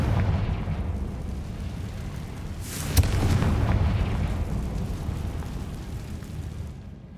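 Confringo fire spell explosion in Hogwarts Legacy, a sudden booming blast with a sharp crack at its onset that rolls into a broad, fading rumble over a steady low background hum.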